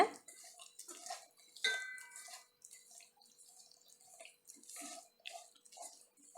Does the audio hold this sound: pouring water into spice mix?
yes